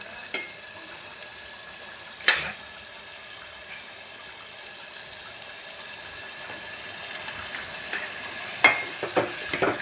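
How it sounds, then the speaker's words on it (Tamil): A handful of curry leaves fry in oil for a tomato, pepper and cumin rasam, giving a steady, soft, faint sizzle with a sharp pop or clink near the start and a few more near the end. No one speaks. "சேர்த்து ஆயிலே இதை நம்ம ஃப்ரை பண்ணிக்கலாம்."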